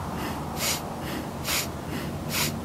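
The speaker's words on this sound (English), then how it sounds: "And exhale all the way." Three deep, breathy exhales during a Tao inner alchemy meditation, each a soft broadband whoosh arriving at a slow, even rhythm about a second apart, close and clear over a quiet background.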